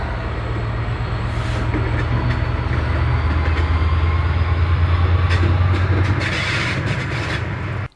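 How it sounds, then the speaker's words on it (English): A train rolls past on nearby rails, heard from aboard a narrowboat moored beside the line: a loud, steady rumble with rail clatter that holds for about six seconds, then drops away abruptly. "Trains are still pretty loud."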